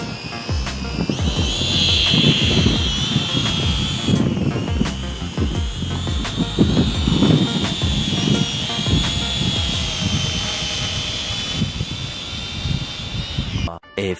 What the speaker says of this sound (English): I just want to try flying the drone on its own